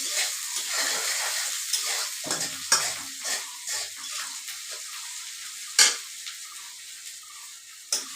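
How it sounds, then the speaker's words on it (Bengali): Ginger-garlic paste sizzles and spits in hot oil for a tangra fish curry with potato, eggplant and ridge gourd, a steady close crackle broken by scraping stirs and a few sharp utensil clinks. "এতিয়া মই ইয়াতে এই আদা নহৰু অকণমান কুৰাই থোৱা আছিলে সেইখিনি দি দিলোঁ"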